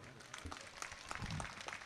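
Audience applause at an Urdu mushaira poetry gathering in Bhiwandi: faint, steady clapping from a crowd, heard from a distance with a voice faintly mixed in.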